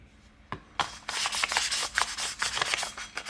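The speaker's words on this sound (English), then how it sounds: "I'd say the orbital sander on the flat side is the way to go." An orbital sander loaded with 2000-grit paper works the flat side of a stainless steel pistol, a close, loud, continuous rasping rub that pulses unevenly after a couple of brief starting scuffs, no talk.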